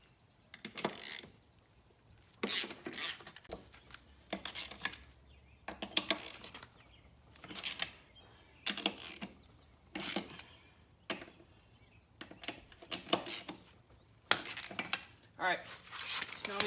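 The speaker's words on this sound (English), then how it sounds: "now we got all the lug nuts loose on the front end" Lug nuts are loosened on the front wheels of a 2022 Can-Am Outlander 570, with repeated short bursts of ratcheting and metallic clanking separated by brief pauses, faint and close.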